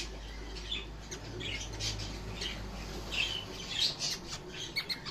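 A pet bird being held in the hand for hand-feeding gives repeated squawks and short chirps over a low steady hum, close and fairly quiet.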